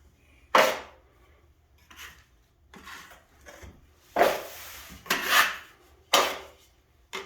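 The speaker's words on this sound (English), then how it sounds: "this is topping, so it's real easy to sand." Drywall topping compound on a ceiling being sanded by hand in short, separate scraping strokes, each a close, gritty rasp with quiet pauses between.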